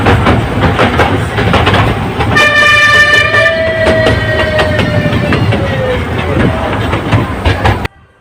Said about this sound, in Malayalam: ഇനി നമുക്ക് ട്രെയിനിൽ ടാറ്റ പോവാം.